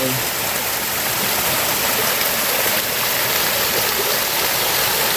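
A small waterfall in the hills pours steadily, its broadband rushing wash filling the scene at close range without a break and with no voices.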